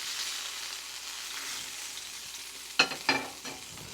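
Chicken cutlets fry in a hot pan with a steady, close sizzle, and two sharp clattering knocks cut in near the end as the pieces are handled.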